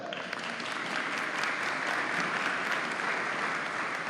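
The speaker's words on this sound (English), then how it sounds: "Can we get a round of applause for our Trooperettes?" Audience applause for the Trooperettes at a school signing day ceremony, a thick, continuous wash of clapping from a sizable crowd, steady and loud throughout.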